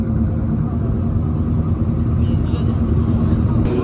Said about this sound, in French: ce sont les monoplaces qui partent pour la prochaine course